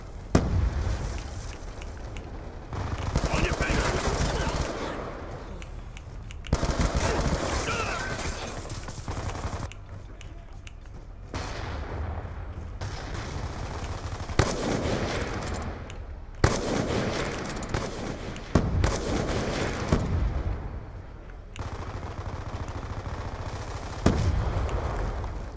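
Heavy gunfire in Call of Duty Black Ops 2 on PC, loud bursts of automatic fire and sharp shots with explosion-like booms, dense and continuous with short lulls, no talking.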